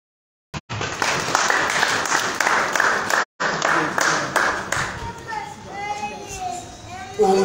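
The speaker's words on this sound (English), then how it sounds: "Children, clap for yourselves." Children clapping for themselves at a church gathering, a loud, dense burst of many small hands with excited kids' voices mixed in, briefly cut out, then fading as adult speech takes over.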